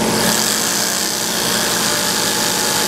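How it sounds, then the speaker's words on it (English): An air compressor runs close by in a loud, unbroken roar with a dense hiss and a steady hum underneath, and nobody talks over it. "And there's the air compressor"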